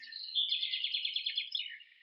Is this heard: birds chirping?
yes